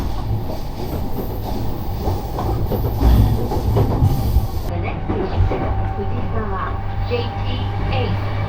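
A train rumbles and clatters steadily nearby at a station in Japan, with rail noise filling the platform and voices murmuring underneath.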